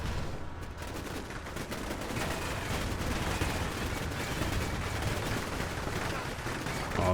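Rifle squad gunfire in the Cold War tactical game Combat Mission: Cold War, a steady dense crackle of shots and distant battle noise running continuously at moderate loudness with no voices.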